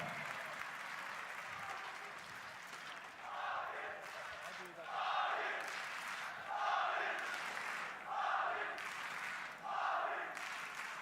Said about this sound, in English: Portions of the crowd finding their voice now as the rest goes silent in anticipation as to what's to come.